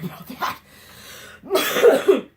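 A few harsh coughs from someone with the flu, close to the mic, a rough burst early then a louder clustered fit of coughing at the end.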